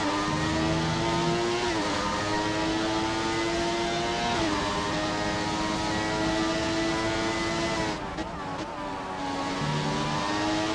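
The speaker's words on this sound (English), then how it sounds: "this is just a little snippet of how the car sounds" The McLaren MP4/6 Formula 1 car in F1 2017 sings through a lap, its high engine note climbing steadily through the gears with sharp drops at each shift, loud and continuous with no talk over it.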